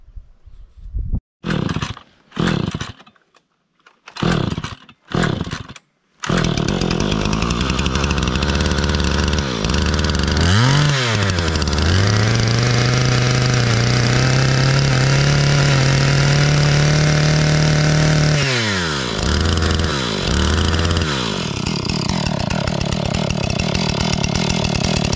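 A chainsaw notches a log for a chicken run: a few short sharp bursts as it starts, then a long loud steady roar under load with pitch dips, and it settles back to a lower rumble near the end.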